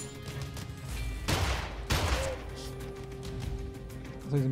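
Gunfire in the first-person shooter Immortal Redneck on Switch: two sharp, loud shot bursts about half a second apart over a steady game background hum.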